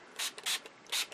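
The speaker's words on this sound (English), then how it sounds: "I'm spraying it with rubbing alcohol" Rubbing alcohol is sprayed onto a painted canvas in three quick, close hissing bursts, each a short spritz separated by brief pauses.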